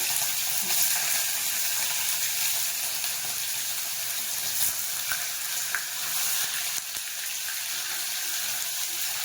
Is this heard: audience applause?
no